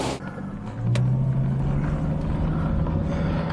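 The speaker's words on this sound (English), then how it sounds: "Out on a bit of a test drive now." Steady engine drone from inside a V12 car with Marelli ignition on a test drive, a low rumbling hum that rises slightly and then holds constant.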